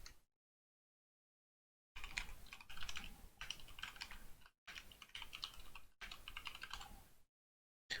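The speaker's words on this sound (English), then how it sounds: "I'm sorry for the loud typing," Loud, rapid typing on a computer keyboard comes in several bursts separated by short silences, close and clattery.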